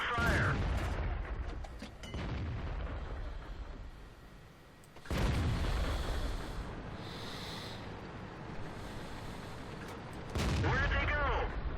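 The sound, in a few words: tank destroyer gun firing in the video game World of Tanks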